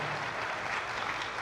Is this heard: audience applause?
yes